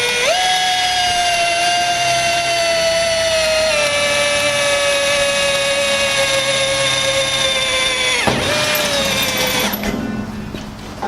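A big rotary hammer drills with a regular masonry bit, giving a loud, steady, continuous motor whine and pounding that shifts pitch slightly and trails off near the end.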